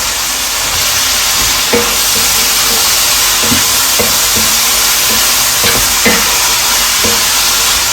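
Green chillies, onions and curry leaves frying in a pan give a steady loud hiss and sizzle, with a few soft scraping stirs breaking through now and then.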